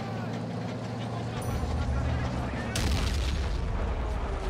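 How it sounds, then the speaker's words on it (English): Mortar fire in a World War II strategy video game, deep booming launches and impacts rolling under a busy battle soundscape, with a sharp loud burst partway through and a commentator talking over the action. "Mortar."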